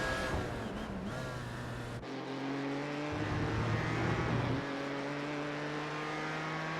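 Porsche 919 race car in a sim racing game at Road America, its engine droning steadily with shifting pitch and a brief dip near two seconds, loud and continuous with no talk.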